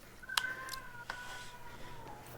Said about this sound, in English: I want to hear the meows.